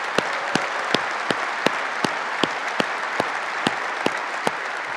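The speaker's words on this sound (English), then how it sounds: "Let's give them a round of applause." Steady applause from a large conference audience in Las Vegas fills the hall, with a dense wash of clapping and a few sharper claps repeating at a regular beat.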